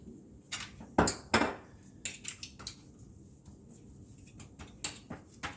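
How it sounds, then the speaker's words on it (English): A fork clinks and taps against a dish while mixing an olive oil marinade for a veal chop Florentine. The sharp clicks come close and irregularly, with quiet pauses between them. "Now you can just mix this up a little bit with a fork."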